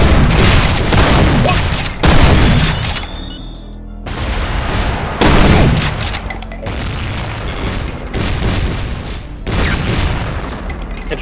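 A series of loud, heavy booming blasts from a death explosion in the video game Ultimate DOOM, about six in quick succession with short gaps, each with a rumbling tail.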